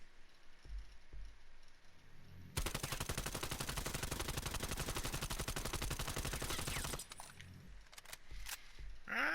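AS-VAL rifle, a modified AK-74u, firing in Cold War Zombies: one long sustained automatic burst of rapid, evenly spaced shots lasting several seconds, loud and close, with quieter game sounds before and after.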